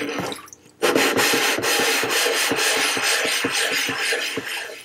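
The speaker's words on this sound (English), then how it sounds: "And now this diamond plate, I'm going to start flattening this stone here." A diamond plate scrubbed back and forth across a sharpening stone to flatten it, giving a rhythmic series of gritty rasping strokes at close range after a brief quieter start.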